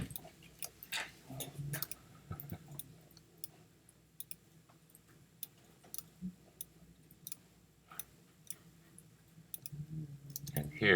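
Computer mouse clicks while a logo is being edited, crisp single and double clicks scattered irregularly over a quiet background, close to the microphone, with faint shuffling between them.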